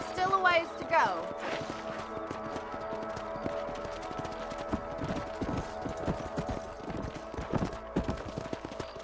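Horse hooves clip-clop steadily during riding in the Western video game Red Dead Redemption, with a brief neigh near the start and the rhythm continuing under ambient game sound.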